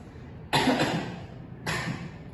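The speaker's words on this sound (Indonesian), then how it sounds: "Maaf ya, Bapak batuk." Two rough, breathy coughs from a man nearby, the first longer and louder, the second following about a second later.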